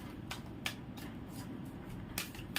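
Cards being shuffled for a card reading, a few soft riffling bursts spaced irregularly over a quiet, low background.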